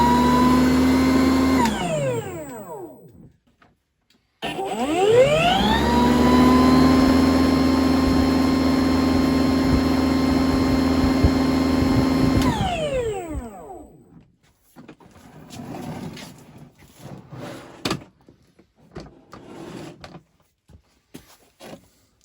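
A battery-powered Snow Joe 24V electric snow blower starts up twice with a rising whine and runs at a loud, steady motor drone, then spins down, leaving scattered handling clatter.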